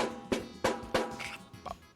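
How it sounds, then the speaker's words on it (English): Three sharp snare drum hits with the snares engaged give a buzzy rattle in an even rhythm, then a couple of softer taps, close and alone. "when the lever is picked up like this, it makes the actual snare sound"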